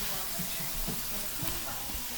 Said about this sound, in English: And just gonna cook that garlic till it's fragrant.